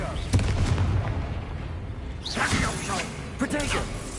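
Confringo blasting spells burst during Hogwarts Legacy gameplay, loud explosive whooshes and booms over dense game noise, with a sharp hit near the start and more blasts later, while a voice speaks over the action.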